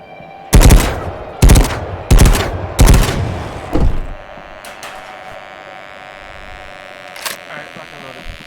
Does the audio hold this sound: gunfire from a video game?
yes